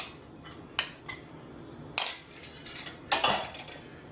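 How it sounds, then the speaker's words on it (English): Utensil clinking against a bowl while seasonings are gently folded into lump crab meat for crab cakes, a few sharp metallic taps spaced over a quiet background, no speech. "what we're going to do is blend this, blend our seasonings with that"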